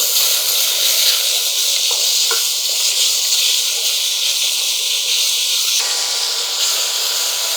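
Onion and tomato pieces frying with curry leaves in a pan, a steady close sizzling hiss that runs throughout, with a brief clatter and a slight shift in tone near the end.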